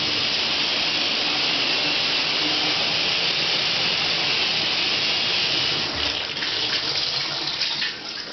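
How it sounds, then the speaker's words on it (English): A low-flow shower head sprays water in a continuous, loud, even hiss that holds steady throughout, with slight splashing changes near the end. "Check out that water pressure."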